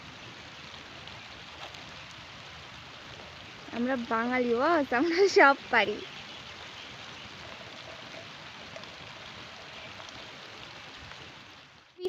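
Rain falls steadily in a village vegetable plot near pointed gourd vines, a soft continuous hiss throughout. A person speaks briefly in a sing-song voice in the middle.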